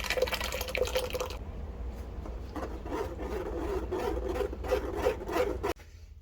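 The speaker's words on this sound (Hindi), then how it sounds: "खजूर और इमली को पानी डालते जाएंगे और ये आराम से ये स्टेन हो जाएगी सारी ना इमली" Tamarind and dates being strained with water, a continuous wet rubbing and pressing sound up close with splashy texture.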